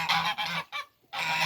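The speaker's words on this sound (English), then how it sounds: "And geese." Geese honk loudly and close by on a farm in Gasuo, South Korea, letting out a quick series of harsh nasal calls, broken by a brief pause before another long honk.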